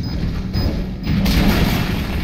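A bomb exploding in a video game, a muffled low boom that swells and lingers as a rumbling roar for about a second.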